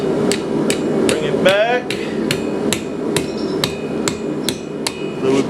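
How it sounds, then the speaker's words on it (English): A blacksmith hammers a taper on a small piece of steel over an anvil: a steady, ringing series of sharp metal blows close up, about two per second, with a brief spoken phrase. "We're going to taper this little end here, take it over the anvil"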